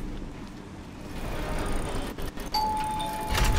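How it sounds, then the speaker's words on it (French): A doorbell rings in the Ark video game, a bright chime that sounds once and rings out over a steady background hum, no talking. "Oh, y'a une sonnette"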